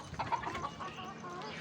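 Chickens cluck and call on a goat farm near Nagpur, a few short calls in the first second, then a softer, steady stretch of farmyard ambience, faint and somewhat distant.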